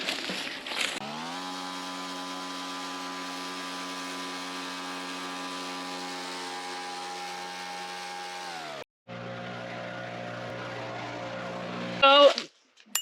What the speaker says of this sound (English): using the leaf blower to get all the fine debris away from the tree